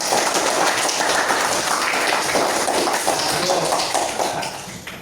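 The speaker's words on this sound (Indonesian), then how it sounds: "beri tepuk tangan untuk kalian sendiri" A class of students claps for themselves in a school lesson, a dense, steady round of applause that fades slightly toward the end.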